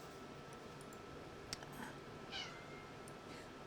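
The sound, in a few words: cat meowing loudly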